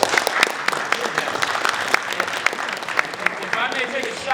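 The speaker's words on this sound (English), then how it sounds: "I gotta give them a round of applause for that" An audience claps and applauds steadily for a few seconds, a dense patter of hands.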